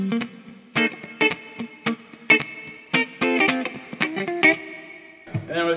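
A Telecaster electric guitar plays a funk rhythm through a Lemon Aid clean boost pedal, sharp, choppy strummed chords in a syncopated pattern with muted gaps between hits, loud and alone.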